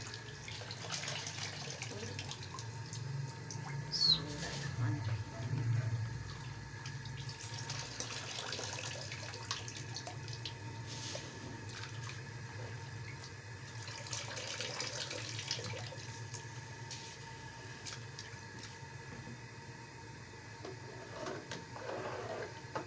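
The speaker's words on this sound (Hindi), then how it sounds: "अभी हम डालने लगे हैं चावल इसमें।" Rice, one kilo, poured into a pot of boiling water while cooking biryani in a home kitchen: a steady watery rushing and hiss with bubbling underneath, fairly quiet and continuous throughout, no talking.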